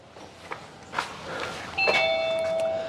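A doorbell at a station along the Via Dolorosa in Jerusalem sounds its chime once: sustained ringing tones that hold and fade slowly over ambient street noise.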